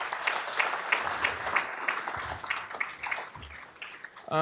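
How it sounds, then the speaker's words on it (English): A crowd at a State of the City event claps steadily for several seconds, a dense patter of hands that fades slightly before a voice begins at the end. "could we at least give them a round of applause?"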